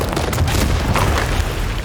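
A heavy stone cave door bursts open with a loud, sustained rumbling boom that fills the whole moment, dense and close with no speech.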